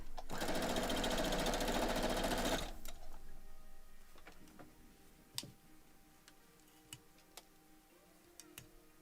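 A sewing machine stitches a pixel quilt block in a loud, steady burst of about two and a half seconds, then stops, leaving faint scattered clicks and taps of handling the fabric.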